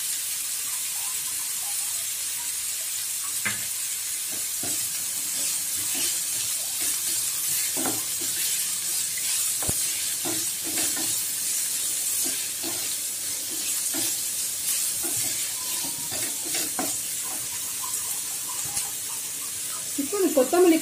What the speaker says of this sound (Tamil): எல்லாம் சேர்ந்து வர்றதுக்காக தான் அது சும்மா கொஞ்சம் வதக்குறோம்.